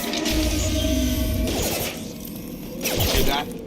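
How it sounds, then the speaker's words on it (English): Mechanical clanks, whirs and metallic crashes of Fenris mechs in Mass Effect 2 Legendary Edition, dense and loud throughout with a lull in the middle before a renewed burst near the end, no talking. "Hear that? Sounds like Fenris mechs."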